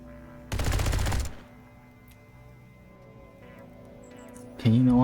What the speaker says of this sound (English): Stop burst firing me